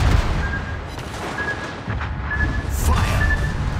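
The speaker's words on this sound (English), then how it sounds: "Fire! Enemy destroyer blown up." Naval guns fire in a warship video game as an enemy destroyer is blown up: booming gunfire and explosions over a continuous low rumble of engines and sea, with faint tonal game beeps and a brief voice.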